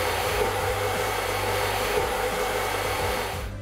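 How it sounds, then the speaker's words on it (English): A hair dryer on a low setting blows with a steady, loud whoosh close by while styling a man's hair, running continuously before cutting off at the end. "take a hair dryer on a low setting, just run it through your hair, scrunching while you go."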